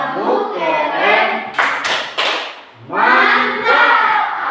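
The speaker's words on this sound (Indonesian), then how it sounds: "Kita sambut dengan tepukan Hebat, tepuk hebat." A classroom of students performs the rhythmic 'tepuk hebat' clap, three sharp group claps in quick succession between bursts of loud unison chanting by children's voices.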